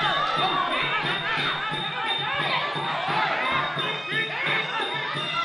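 A dense crowd roars and cheers continuously at a Muay Thai boxing match, a loud, steady wall of shouting voices with overlapping calls rising and falling, and a commentator speaking over it.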